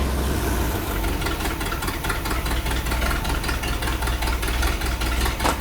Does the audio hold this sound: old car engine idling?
yes